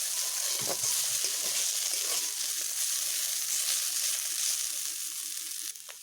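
Green plantain peels fry in hot oil with a steady, close hiss and crackle that runs unbroken throughout and eases slightly at the very end.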